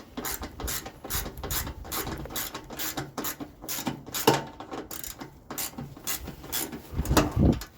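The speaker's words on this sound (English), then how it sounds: "you need a 3/8 socket and then just tighten it like this" A 3/8 socket ratchet clicks steadily while snugging the bottom panel bolts on a Craftsman snowblower, a close, rapid run of light mechanical ticks with short pauses between strokes.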